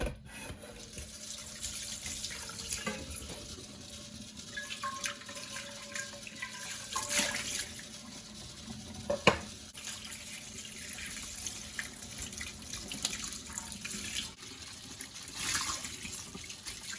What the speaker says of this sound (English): So we're going to go ahead and thoroughly wash them.